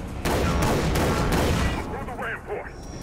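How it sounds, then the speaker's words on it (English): Shotgun blasts in the video game Blood Dragon, a few loud sharp reports in quick succession with a voice talking over and between the shots. "Shotgun!"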